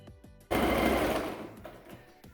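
A sewing machine overcasts the raw edge of swim-short fabric, running in one loud continuous burst after a few short stitches and then slowing to separate stitches.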